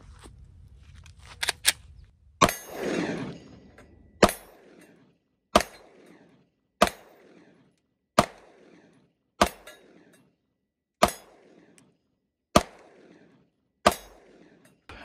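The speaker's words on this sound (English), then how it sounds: "Next up is going to be my VP9 SK subcompact. This is my everyday carry." VP9 SK subcompact pistol fired at an AR500 steel target: a string of about ten evenly spaced shots, each a sharp crack with a ringing metallic clang from the plate, with quiet gaps between them.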